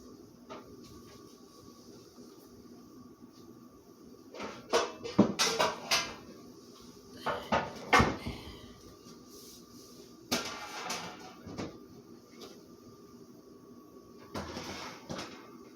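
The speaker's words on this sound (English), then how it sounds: "Get a pizza pan out." A pizza pan is pulled from a kitchen cupboard: a quiet room broken by several bursts of wooden door knocks and metallic clatter, close and irregular, with short pauses between them.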